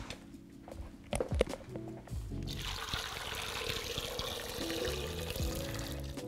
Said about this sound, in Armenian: ես այստեղ կավելացնեմ անմիջապես եռացրած ջուր